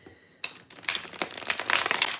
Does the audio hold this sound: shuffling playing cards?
yes